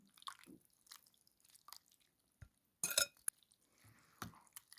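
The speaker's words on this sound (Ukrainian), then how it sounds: "у сковорідку вливаю яйце з молоком та цукром" An egg, milk and sugar mixture poured into a pan: faint, scattered drips and soft wet splashes in a quiet kitchen, with one brief louder splatter partway through.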